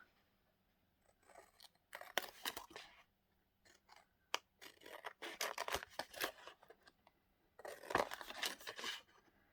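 Scissors trim recycled packaging craft paper in a quiet room, with bursts of close, crisp snipping and cutting separated by short pauses.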